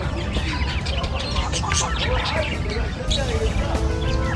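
Chickens and roosters at a livestock market, with scattered clucks and chirps mixed with other birds in a busy, reverberant space while people talk over them.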